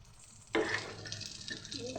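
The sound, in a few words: chicken pakora frying in oil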